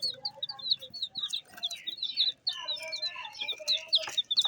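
Busy, continuous high peeping and chirping from a group of turkey chicks, close and fairly loud, with soft clucks mixed in.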